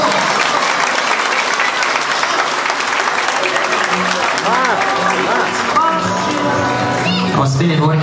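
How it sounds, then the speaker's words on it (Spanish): Applause and cheering fill the dance floor at a quinceañera, steady clapping from the crowd mixed with lively talk and shouting voices over it throughout. "Venga, ese fuerte aplauso."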